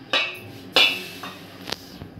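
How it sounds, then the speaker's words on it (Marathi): An iron griddle (tava) is set down on a home kitchen stove while flatbread is being made: two sharp metallic clanks, the second louder, followed by lighter knocks and a clink as it settles, close and without talk. "आपण आता तवा टाकून घेऊया अशी"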